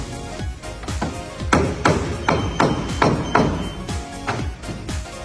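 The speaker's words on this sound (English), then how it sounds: "I can get the whole thing on by tapping gently, getting that sandwich nice and snug" Vinyl F-channel deck trim is tapped gently into place, giving about a dozen close, dull thuds in a steady rhythm with a rubbery knock to each blow and no talk.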